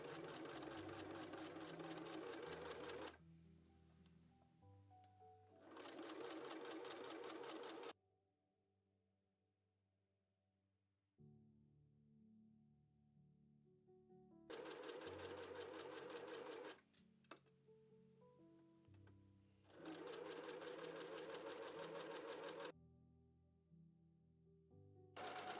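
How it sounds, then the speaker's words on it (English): A sewing machine stitching hoodie pieces runs in long steady bursts of loud, close whirring, stopping twice for a few seconds of quiet before starting up again. "I'm going to get to stitching up all those pieces"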